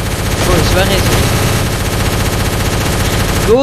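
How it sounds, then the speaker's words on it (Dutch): Rapid automatic gunfire from the Fortnite video game, dense bursts of shots running continuously and loud, with game effects and faint voices mixed underneath. "Door je schoten, man."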